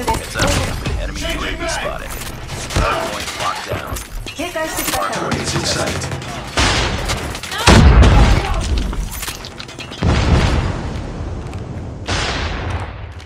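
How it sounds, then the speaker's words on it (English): Call of Duty Mobile hardpoint match: a flashbang goes off with a heavy boom amid scattered gunfire and clanking mechanisms, with game voice lines and speech heard throughout. "Flashbang!"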